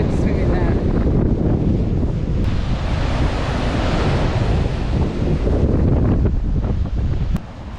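Broadband surf of large waves breaking on a big beach on the NSW Central Coast, loud and continuous with wind buffeting the microphone throughout.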